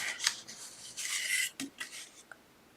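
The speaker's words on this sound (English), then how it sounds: "turn your cardstock around in your trimmer and score the same" Cardstock being scored in a paper trimmer gives a few short, soft scraping strokes, quiet and close, with brief pauses between them.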